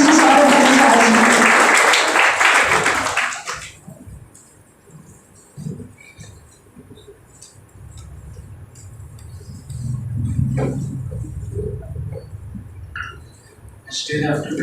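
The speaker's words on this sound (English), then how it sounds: "A big round of applause for Mr. Saurav Bhattacharjee." Applause from an audience at an Engineer's Day 2022 function, loud for the first few seconds and then fading into quiet room noise with faint murmurs and a brief rustle near the end.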